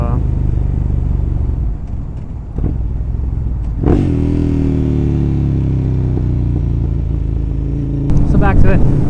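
A 2012 Ducati Monster 1100 EVO engine runs loudly and close, a deep, continuous rumble with a rising rev near the middle and clattering at the end, while a person talks over it.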